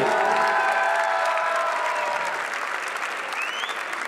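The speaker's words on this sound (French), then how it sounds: "Un grand applaudissement pour le travail qu'ils font pour nous accueillir." Sustained applause from a crowd, dense clapping that stays steady and loud before easing slightly toward the end.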